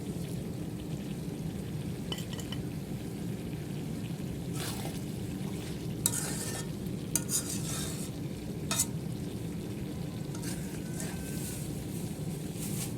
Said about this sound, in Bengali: তারপর কাঁচামরিচ ফালি দিয়ে দিব